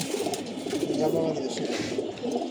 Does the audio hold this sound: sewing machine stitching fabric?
no